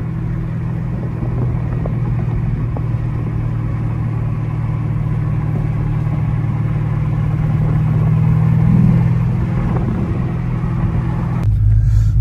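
A cammed Chevrolet Camaro SS 1LE running E85 idles with a steady low rumble and exhaust drone, rising slightly in the middle, with a brief click near the end.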